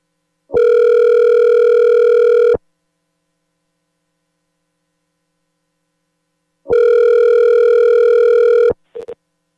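A telephone ringback tone sounds loud and clear while a cell phone call goes through, two long steady tones about two seconds each separated by a long silence, ending with a short blip.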